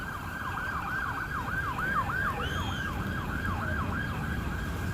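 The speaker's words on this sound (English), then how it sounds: "Of course, what's a day in Philly without sirens?" An emergency siren wails in rapid rising and falling sweeps, moderately distant over a steady rumble of city traffic in Philadelphia.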